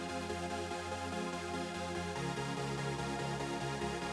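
Detuned supersaw synth chords made in FL Studio, collapsed to mono with no stereo spread, playing a dense buzzing sustained chord progression that shifts to a new chord about halfway through, loud and continuous with no voices.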